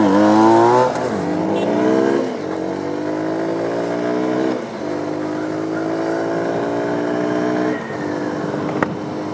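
A Yamaha MT-09 motorcycle engine on a city street in Cali, loud and close, revving up in rising sweeps that drop back to idle and climb again several times across the stretch.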